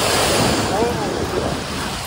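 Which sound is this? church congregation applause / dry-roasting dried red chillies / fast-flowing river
fast-flowing river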